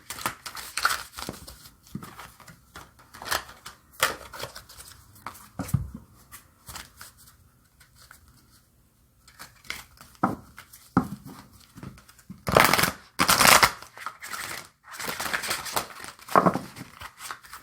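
An oracle card deck is shuffled by hand in bursts of riffling and slapping, near and crisp, with pauses between the flurries.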